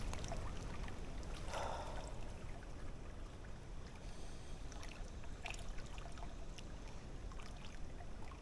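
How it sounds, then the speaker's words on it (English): Steady broadband rush of flowing creek water, continuous and fairly close, with small splashes and trickles breaking through now and then. "Y'all can probably hear the creek flowing behind you."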